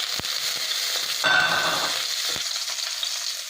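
Cumin seeds and green chillies sizzle and crackle steadily in hot oil for samosa filling, close and continuous, with a few sharp spoon taps against the pan.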